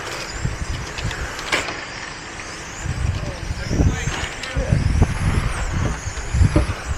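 Tamiya radio-controlled race cars whizz past on a raceway track during a GT2 championship event, thin high-pitched motor whines sweeping up and down at a distance beneath an announcer's continuous commentary.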